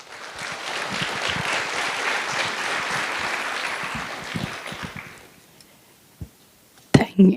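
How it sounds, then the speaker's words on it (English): Applause for a Bharatanatyam dancer at her live Rangapravesh debut, a full, sustained round of clapping from the audience that fades out after about five seconds, followed by a few isolated knocks and handling sounds. "Let's all give a round of applause to Sahana and show her all the support."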